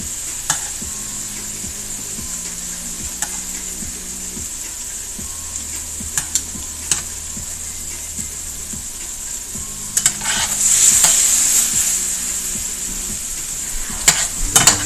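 Meat and vegetables sizzle on a hot griddle while being stirred and tossed, a steady frying hiss with scattered scraping clicks of a utensil, a brief louder sizzle burst midway, no talking.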